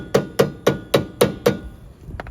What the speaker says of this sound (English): a little soft mallet hammer.